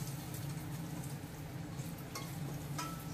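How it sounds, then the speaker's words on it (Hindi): A steady, even sizzle of onion and chilies frying in hot oil, with occasional soft pops and spatters. "अब इसको हम लगा देंगे इसमें तड़का।"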